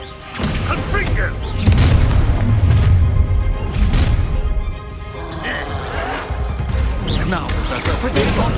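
A Confringo fire spell in Hogwarts Legacy bursts into a heavy, booming blast during a troll fight, followed by dense, continuous rumbling battle noise that stays loud throughout, with a brief dip midway.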